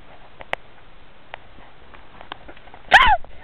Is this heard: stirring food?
no